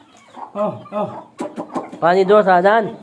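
Chickens being brought food and water make several short clucking and crooning calls close by, the last one longer and louder, mixed in with a person talking.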